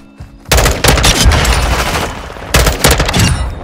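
Rapid automatic M4 rifle fire in the video game Modern Warfare II, two loud sustained bursts of fast shots, close and dominant, with a short gap between them.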